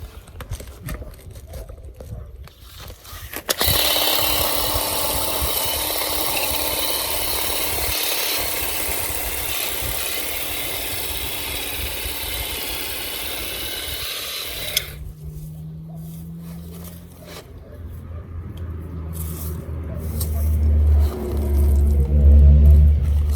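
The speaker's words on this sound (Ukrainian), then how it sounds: "я беру свій помічничок кущуріс і починаю косити" A string trimmer cuts grass along a garden border, its loud, steady high-pitched whine running alone for about eleven seconds before cutting off into quieter low rumbling and handling noise.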